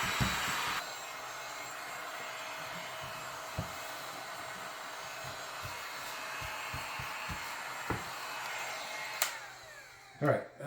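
A heat gun blows hot air in a steady, close broadband rush while fixing a marine vinyl boat window, holding through the clip with a few soft knocks and handling thumps, and a sharper clatter near the end.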